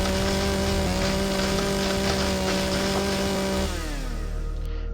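A chainsaw cutting logs in the video game Empyrion Galactic Survival drones loudly and steadily, a continuous buzzing motor whine with no voices, shifting pitch near the end as the cut finishes.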